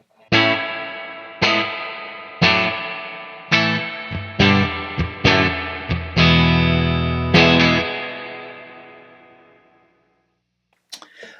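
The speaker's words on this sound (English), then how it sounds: "it has what people refer to as a spring type reverb" Guitar run through a spring reverb effect pedal: a series of strummed chords struck roughly once a second, each ringing out with a splashy, sustained reverb tail that slowly fades, then a brief faint noise near the end.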